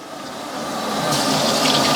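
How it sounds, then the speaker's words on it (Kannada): Oil poured onto keema dry in a restaurant kitchen, a steady liquid hiss and trickle that grows slightly louder toward the end, heard close with no voices. "ಈಗ ಎಣ್ಣೆ ಬಿಡ್ತಾವ್ರೆ"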